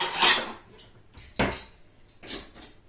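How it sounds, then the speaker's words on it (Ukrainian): Dishes clatter and clink in three separate bursts, ceramic and cutlery knocking together at close range with short pauses between. "Зараз я просто поскладаю посуд"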